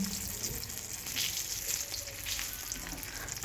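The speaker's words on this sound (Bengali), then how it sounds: "এই তেলের মধ্যে ঝিঙে সজনে ডাঁটা একটু বেশ লবণ দিয়ে হালকা ভেজে নেব" Ridge gourd and drumstick pieces, salted, fry in a generous amount of hot oil, a steady dense close sizzle that holds evenly throughout with no pauses.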